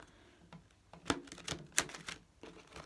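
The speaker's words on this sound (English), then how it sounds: "So I'll just give these a shuffle quickly." A deck of tarot cards is shuffled by hand, giving a quick run of sharp, irregular papery clicks and snaps up close, with quiet gaps between bursts and no voices.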